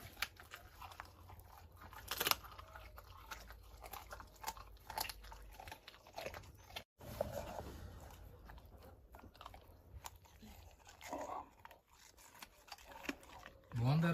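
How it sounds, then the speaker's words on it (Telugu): A tiger chewing on a country chicken, with wet crunching, biting and licking sounds spread through the clip under intermittent talking. "నాకుతూ నములుతూ ఆస్వాదిస్తూ తింటాడు"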